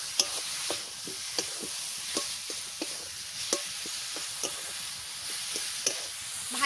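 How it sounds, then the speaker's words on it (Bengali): Jackfruit pitha frying in a pan gives a steady sizzle and hiss, with regular clicks and scrapes of stirring spaced through the clip. "এরকম লাল লাল করে ভেজে নেব।"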